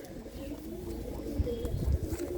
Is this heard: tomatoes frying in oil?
no